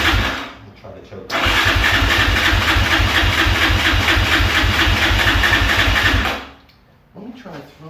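A Yamaha Raptor 660R ATV engine under overhaul, choked, catches and fires up, then runs loud and steady with a pulsing beat for about five seconds before dying away to quiet.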